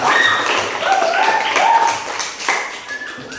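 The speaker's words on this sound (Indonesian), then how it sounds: "Tepuk tangan dulu dong untuk kita semua" A class of students claps hands in appreciation, a scattered burst of taps and claps of uneven rhythm in a room, with faint voices mixed in.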